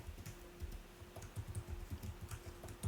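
A computer keyboard is typed on at a close, quiet distance while an SSH key passphrase is entered, giving a steady run of soft, rapid key clicks with no voices.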